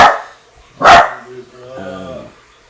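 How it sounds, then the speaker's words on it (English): A dog lets out one loud, sharp bark close by, followed by softer whining and a voice talking underneath. "I think my dog's going to keep barking"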